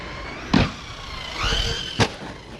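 A Traxxas Hoss 4x4 VXL RC car, its electric motor giving a short rising whine during a throttle burst, bracketed by two sharp thumps, close and fairly loud.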